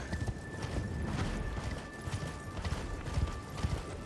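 Horse hooves clip-clop at a steady pace in Elden Ring, close and clear over a muffled game backdrop with a faint steady tone.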